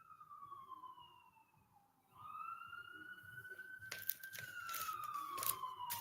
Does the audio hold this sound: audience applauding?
no